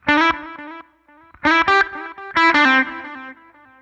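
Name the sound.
stereo delay effect on electric guitar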